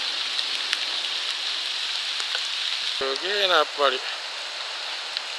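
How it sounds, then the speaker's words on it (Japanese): Rain falls steadily during a river walk in Boso, a constant soft hiss that carries on beneath a brief spoken exclamation from a man. "やっぱり雨舐めたらダメですね。"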